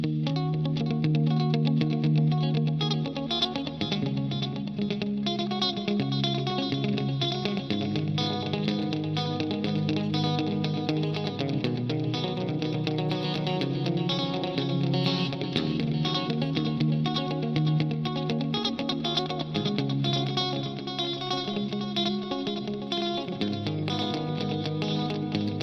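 Electric guitar played through a Line 6 Helix preset called Relativity GD by Glenn DeLon, with distortion, chorus-like shimmer and echo, dense sustained chords and riffs continuing loudly throughout with no talk.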